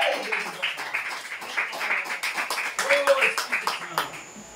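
A church congregation claps along in a steady, rhythmic burst of applause, with a voice speaking over the clapping throughout.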